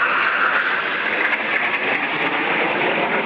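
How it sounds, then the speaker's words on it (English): An air force plane makes a flyby during a Kenya Air Force training display, a steady jet engine roar that holds at moderate loudness throughout, with no one speaking. "And then the flyby is repeated."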